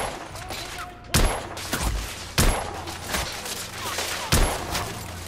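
Heavy gunfire in The Order: 1886: a continuous crackle of shots punctuated by three loud, booming blasts at regular intervals, close and intense.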